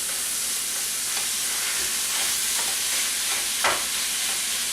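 A pound of ground beef browns and sizzles in a pan with a steady, moderate frying hiss, broken by a few soft scrapes and stirs.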